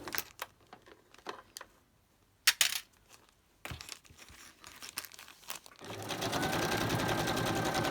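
A sewing machine stitches down fabric on a decorated Christmas folder, with scattered crinkling and handling noises first, then a steady, loud, continuous stitching run over the last two seconds.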